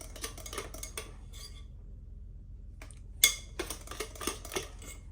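Chocolate cake batter of sugar, egg, butter and melted chocolate being mixed in a bowl, with quick rhythmic clinks and scrapes of a utensil against the bowl, a short pause, then more stirring close by.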